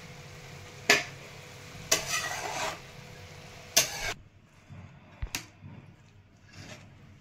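Chana dal and fenugreek greens are stirred and sautéed in oil and salt, with four or five sharp scraping strokes over a low sizzle. The sizzle drops away partway through, and no one speaks.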